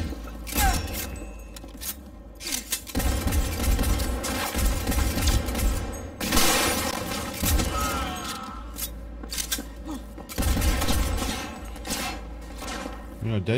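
Gunfire in the Cyberpunk 2077 video game: loud bursts of rapid shots and booming impacts arrive in clusters with short pauses between, alongside scraping and clattering effects, with no voices.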